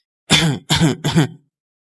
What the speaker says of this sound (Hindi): जोर जोर से खांसी आने लगी